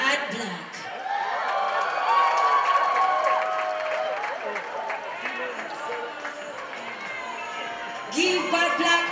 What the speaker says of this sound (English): Give Bad Black a round of applause as she walks